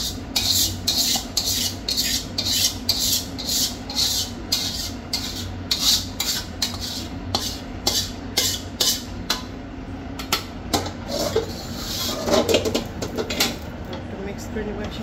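Kosha meat being stirred and mixed into pulao in a pot for biryani, giving steady scraping and rubbing of a spoon against the cookware with soft clinks throughout, close and moderately loud, with a faint hum behind.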